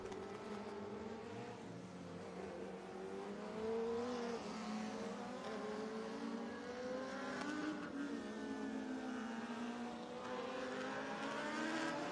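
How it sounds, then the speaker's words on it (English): Dwarf race cars hot lapping and qualifying at Duck River Raceway Park in Lewisburg, Tennessee: several engines drone and rev steadily around the track, faint and distant, with overlapping passes and no talking. "Up next are dwarf cars as they will hot lap and qualify here."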